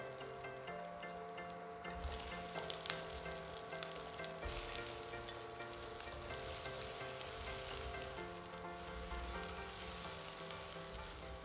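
Momos frying in a pan with onions and capsicum, a steady, dense sizzle with occasional stirring scrapes, close and continuous throughout, no voices.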